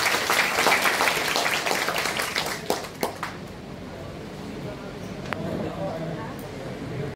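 Applause from an audience at a student felicitation ceremony held by the Bharatiya Bauddha Mahasabha in Amravati, loudest at the start and then fading. A voice speaks over it.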